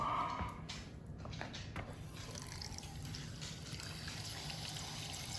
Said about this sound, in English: Now we just need to add some water right below the surface there.